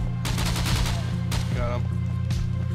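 Gunfire in the survival game Scum during a PvP fight: a few sharp shots spaced about a second apart, ringing over a steady low hum.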